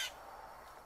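A single harsh squawk from a blue jay at the start, short and fairly close, followed by quiet outdoor ambience.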